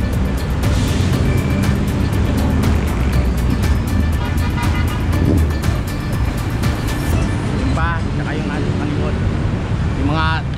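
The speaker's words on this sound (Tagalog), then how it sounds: "yung mga sasakyan na magko-convoy para sa ating donation drive" A convoy of cars and vehicles gathers for a donation drive, giving a loud, continuous roar of engines and road rumble with wind buffeting the microphone and a brief horn-like tone near the end.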